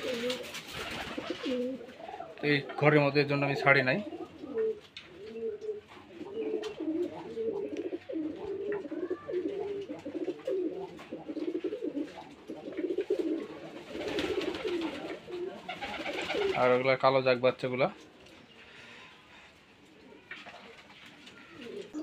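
Rajshahi Giribaz pigeons coo steadily at close range in low, rolling phrases through a room, punctuated by two loud buzzy mechanical bursts, while someone talks over them at times.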